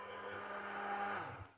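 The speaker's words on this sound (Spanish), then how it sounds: "lo que vamos a hacer es triturar esta salsa con ayuda de la batidora" A hand blender purees spicy snail sauce made with chorizo, bacon and chili peppers, a steady whirring motor hum that holds evenly and then winds down at the end, with no talk.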